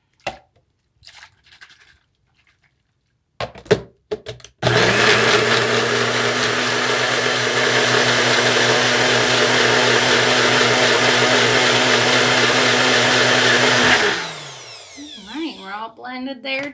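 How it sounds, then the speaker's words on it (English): A kitchen blender churns seed bomb mixture in one loud, steady run of about ten seconds, preceded by brief clatters and ending as the motor winds down into a few knocks. "Grab my blender."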